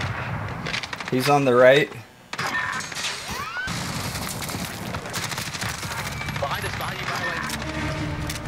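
Gunfire from a Call of Duty Modern Warfare gunfight match with the M4: a few sharp, sudden cracks stand out among game noise while players talk excitedly over the action.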